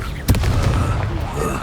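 Confringo blasting spell going off in Hogwarts Legacy, a single sharp bang near the start with a rumbling tail, amid busy combat noise and speech.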